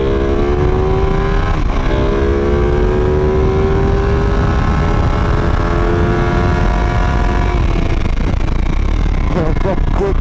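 A 2017 Ducati 959 Panigale being ridden, its engine note holding steady and rising in pitch, loud and continuous under heavy wind roar, with a rider's voice faintly underneath.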